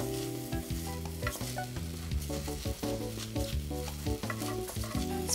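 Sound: stirring egg sizzling in frying pan

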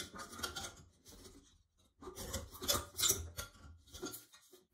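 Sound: removing a shower light fixture trim from its base

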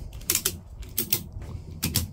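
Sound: ratchet strap being ratcheted tight

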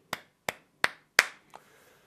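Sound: hands clapping

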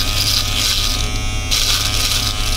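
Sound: foil shaver cutting hair

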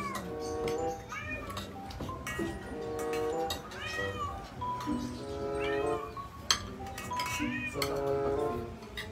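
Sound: cat meowing

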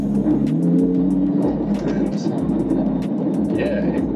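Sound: Lamborghini Huracan engine running

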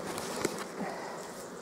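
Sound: honeybees buzzing at open hive brood box

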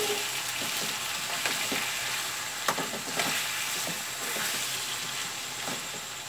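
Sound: chicken frying in oil over high flame

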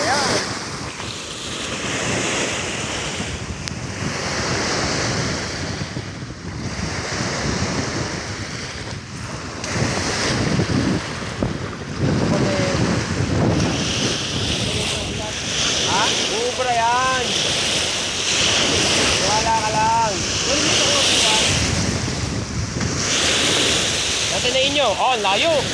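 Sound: waves on Laguna Bay

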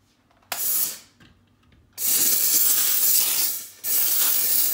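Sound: Vapodil steam cleaner spraying steam on a ventilation unit

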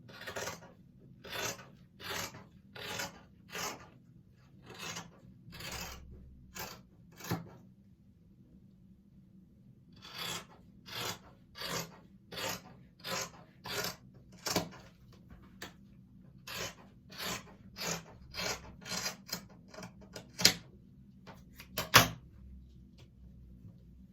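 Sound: cutting fabric for children's camouflage trousers

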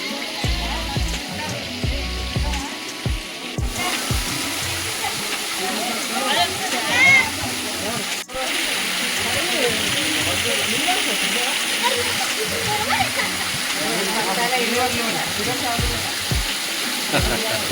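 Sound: waterfall at Srisailam

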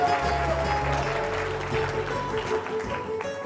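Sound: audience applause for a team

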